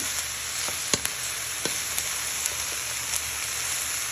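Mixed vegetables frying in a hot pan for an Italian beef soup, giving a steady close sizzle with occasional sharp crackles and spits throughout, no voices.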